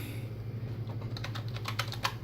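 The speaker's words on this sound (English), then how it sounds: "Showing that the keyboard is functioning again." Quick, light clicks of fingers typing on a computer keyboard come in an irregular run, close and fairly quiet, growing a little busier toward the end.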